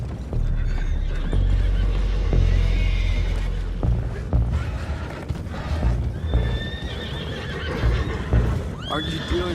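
Horses in Red Dead Redemption 2 neighing and whinnying below decks, with hooves clomping and thudding over a low rumbling hum, several loud, close whinnies rising toward the end amid busy commotion.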